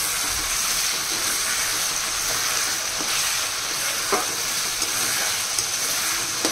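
Chicken frying in hot oil with masala gives a loud, dense, continuous sizzle with occasional small pops and stirring scrapes, steady from start to finish.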